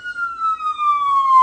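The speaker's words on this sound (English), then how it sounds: "if you want to know what the siren is that's going on" A loud, close siren sounds a single long wail that glides slowly downward in pitch, clear and piercing with no voices over it.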